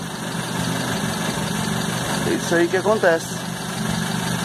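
A hot car engine idles steadily while water is poured into it, the low running drone continuous throughout as a person speaks briefly over it.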